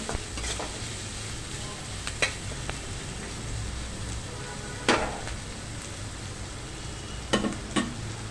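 Onion paste fries in a pan with a moderate, continuous sizzle. A spatula stirs and scrapes it, and a few sharp clinks of utensil on metal ring out. No one speaks.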